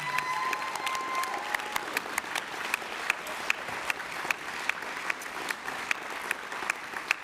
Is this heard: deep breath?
no